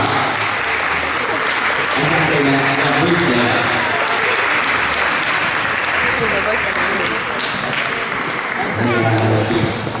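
An audience at a dance competition applauds loudly and steadily throughout, while an announcer speaks over the clapping through amplified sound.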